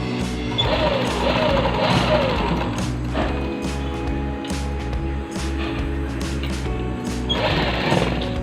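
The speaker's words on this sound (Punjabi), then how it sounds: "ਦੋਨੋਂ ਸਾਈਡ ਕਰਕੇ ਆਪਾਂ ਫਿਰ ਇਹਨੂੰ ਸਟਿਚ ਕਰਨਾ" Sewing machine stitching dori piping for a neckline, a steady close mechanical whir running almost continuously with a brief slowdown near the middle and a faster burst at the end.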